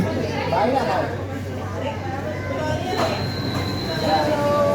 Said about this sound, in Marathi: मेट्रो सुद्धा आलेली आहे कफ परेडची